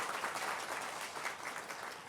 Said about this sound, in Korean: 박수해 주시기 바랍니다